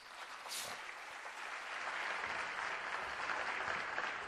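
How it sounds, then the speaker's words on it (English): Parents in an audience applaud at a pre-primary school annual day in Kandivali. The applause is a continuous wash of clapping that swells slightly and holds steady, moderately distant, with no speech over it. "I think they require a round of applause."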